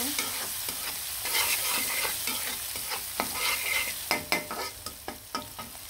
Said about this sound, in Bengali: পেঁয়াজগুলো খুব সুন্দরভাবে ভাজা ভাজা করে নিব।